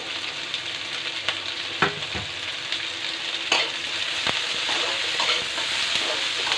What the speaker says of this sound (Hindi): इसमें मैं 1 प्याज डाल दूंगी। थोड़ी सी शिमला मिर्ची डाल दूंगी।